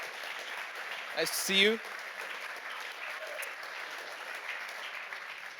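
Soft, distant applause from an audience greets panelist Jani and continues as a steady hiss while a voice briefly speaks over it near the start.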